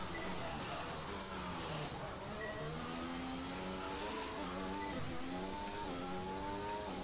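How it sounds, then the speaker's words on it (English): A Formula 1 car engine pushed hard in the video game F1 2020, a high revving whine that climbs through the gears in repeated upward sweeps, steady and loud with no talk. "You can just hear how hard I'm pushing the car"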